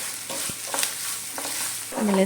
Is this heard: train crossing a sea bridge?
no